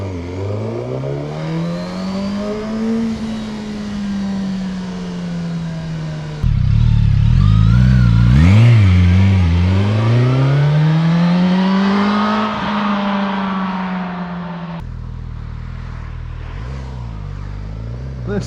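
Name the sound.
motorcycle engine revving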